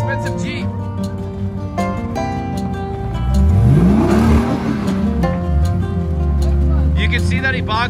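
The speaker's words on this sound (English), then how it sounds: "he bogged the engine because it doesn't make enough horsepower" A Jeep on the Holy Cross off-road trail revs hard, then its engine bogs and labors as it climbs. The loud engine swells and falls under continuous close talking.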